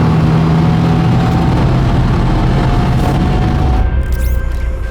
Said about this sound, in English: The WRX's violent launch is a crime against clutchmanity, but the tough Subaru took it time and time again.